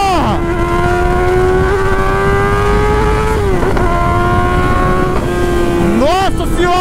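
A new Honda Hornet motorcycle revving hard while ridden, its engine note climbing and dropping across gear changes, loud and steady with sharp pitch sweeps, as a rider talks excitedly over it.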